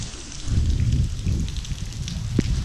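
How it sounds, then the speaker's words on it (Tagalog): Heavy rain during a motorcycle ride toward Atok, Benguet, a steady broadband wash with low rumble throughout, loud and continuous, with a brief sharper knock near the end. "Lakas ng ulan."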